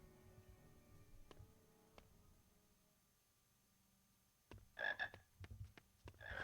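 Chocolate frogs croak in the Harry Potter and the Sorcerer's Stone PC game, several short croaks coming in a cluster near the end after quieter ambience with a few faint ticks.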